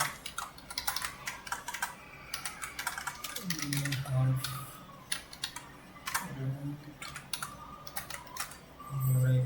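Fast, steady clicking of a computer keyboard while someone codes a Node.js app, close and crisp, with brief pauses and a low voice murmuring underneath at times.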